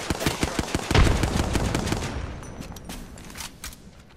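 Rapid bursts of gunfire from an opposing team in a battle-royale video game, dense and loud at first with sharp repeated shots, then thinning into scattered, more distant volleys over a noisy game background.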